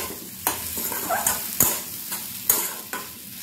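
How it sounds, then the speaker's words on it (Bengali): Fried mung dal being stirred into a pan of spices, with tomato and potato, for a vegetarian pumpkin dish. A soft sizzle underlies repeated spatula scrapes and knocks at a fairly regular pace. "মুগ ডালটাকে দিয়েও একবার মশলার সাথে ভালো করে কষিয়ে নিতে হবে"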